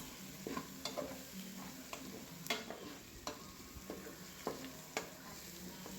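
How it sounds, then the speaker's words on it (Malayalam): Onions for a chicken curry sauté quietly in a pan with a soft, constant sizzle. Scattered scrapes and taps of a spoon stir them, and no one speaks. "പിന്നെ നമ്മുടെ ഉള്ളി വഴണ്ടുകൊണ്ടിരിക്കുകയാണ്."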